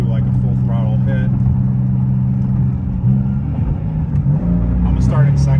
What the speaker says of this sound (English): Checks out, we'll just do like a full throttle hit.